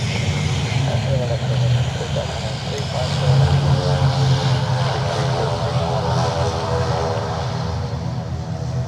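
Aircraft engines roar at Dublin Airport in a loud, continuous drone with a propeller-like hum, swelling slightly midway and holding steady, heard up close with faint voices beneath.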